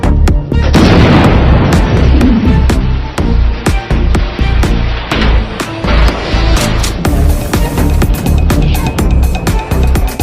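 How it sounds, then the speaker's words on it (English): Explosive packs detonate at a burning oil well, a loud continuous roar of blasts with repeated sharp bangs and cracks throughout, close and dense, with voices partly audible beneath. "Press the detonation button."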